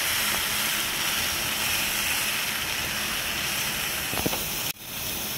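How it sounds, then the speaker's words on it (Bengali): Spices fry in hot oil in a pan with a steady loud sizzling hiss that continues for several seconds before a sudden brief break. "এবার ওই মশলাটা, হ্যাঁ মশলাটা ভেজে নিচ্ছি"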